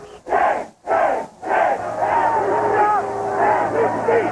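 Protesters shouting along the parade route of the January 2001 presidential inauguration in Washington on a cold, damp day, a loud rolling crowd of chanting and yelling voices, near and continuous with brief pauses early on.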